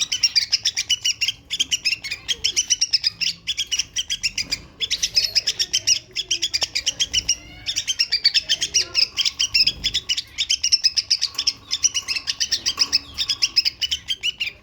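Many small caged birds, including canaries, goldfinches and bulbuls, chirp and tweet nearby in steady rapid bursts, with occasional wing flutters, and no voices.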